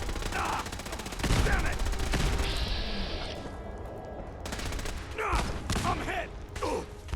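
Dense battle gunfire from Fallout 4's Battle for Bunker Hill, rapid bursts and volleys rattling nearly nonstop with mechanical clatter, under shouted combat voices.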